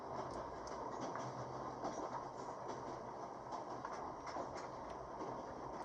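A moving train in the video game The Raven Remastered gives off a steady rumble with faint, rhythmic rail clicks throughout. It sounds moderately close and carries on without speech.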